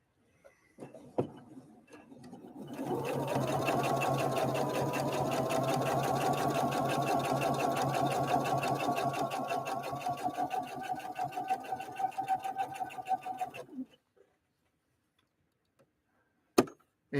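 A Husqvarna Viking Opal 650 sewing machine, Swedish designed and Asian built, stitches at a short stitch length in one steady, smooth whirring run of about eleven seconds, alone and fairly close, with soft handling clicks before and after.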